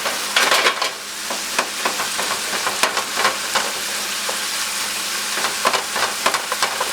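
Ground beef and onions frying in a pan for a taco pie while being stirred, irregular scraping strokes and clicks over a continuous close sizzle.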